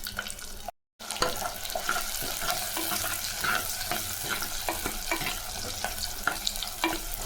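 Small onions dropped into hot oil with mustard seeds and fenugreek, sizzling and spluttering steadily close by, with stirring and scraping in the pan and no talking.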